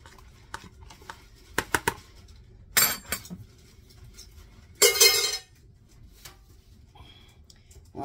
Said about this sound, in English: obviously my pans are metal because you could hear that